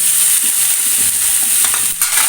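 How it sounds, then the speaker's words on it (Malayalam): Marinated chicken with garlic and ginger fries loudly in a pan, a dense continuous hiss with occasional stirring scrapes, close and steady. "ഇനി നമ്മൾ അതിലേക്ക് മാരിനേറ്റ് ചെയ്ത് വെച്ച ചിക്കൻ ഇട്ട് കൊടുക്കുന്നുണ്ട്."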